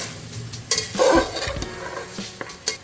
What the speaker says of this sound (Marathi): मटनचा कलर चेंज होईपर्यंत आपल्याला मटण छान असं परतून घ्यायचं आहे